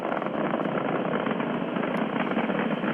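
Falcon 9 rocket engines thrust through ascent toward maximum dynamic pressure on a crewed launch, a steady broad roaring rumble heard distantly and continuously, with no voices over it.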